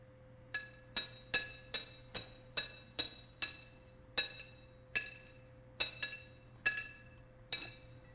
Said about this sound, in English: Don't tap on glass. I know this is steel, but still don't tap it.